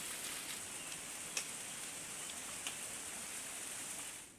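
Heavy monsoon rain pours steadily in the Konkan region on the old Kashedi ghat road, a dense even hiss with a couple of sharp drip ticks, at low level throughout.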